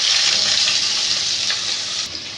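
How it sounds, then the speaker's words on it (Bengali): Onion sizzles steadily in hot mustard oil seasoned with black cumin seeds, a bright, close, continuous frying hiss with no talk. "এবার আমি পেঁয়াজটাকে লাল লাল করে পুরো ভেজে নেব"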